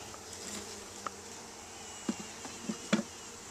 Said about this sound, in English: just get some bees to cover the cage to keep her warm.